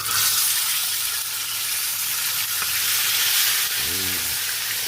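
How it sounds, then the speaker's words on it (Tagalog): Dalagang bukid fish frying in hot oil, a loud, close, continuous crackling sizzle throughout, with a brief low voice murmur near the end. "Nagpiprito na tayo ng ating matandang dalagang bukid, hindi nag-asawa"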